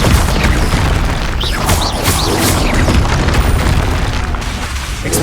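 Spell-casting blast in the video game Hogwarts Legacy, a loud, continuous roaring whoosh with booming low rumble and crackling bursts that carry on without pause.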